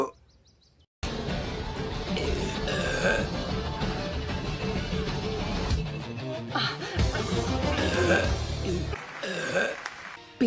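A female cartoon character lets out burps amid animated dialogue and background sound, after a brief quiet start; voices speak throughout.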